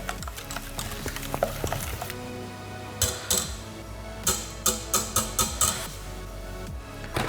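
A whisk beats eggs into pecan pie filling in a bowl, rapid rhythmic clinks and scraping strokes up close, with a run of sharp regular taps toward the end.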